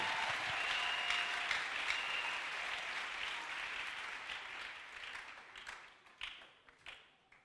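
A church congregation applauds in a sustained wash of clapping that gradually thins and fades, ending in a few scattered claps.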